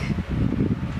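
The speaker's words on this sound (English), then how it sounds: "just brought me in a fan" A steady low whirring hum of an electric fan running close by, continuous with a slight fluttering pulse throughout.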